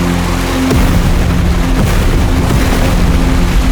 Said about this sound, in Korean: 대체 뭐가 터진 거죠?